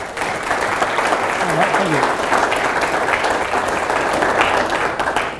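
An audience at a motivational speaking event in Dallas applauds to welcome a speaker, a dense steady wash of clapping from many hands lasting several seconds, with a voice speaking briefly near the end.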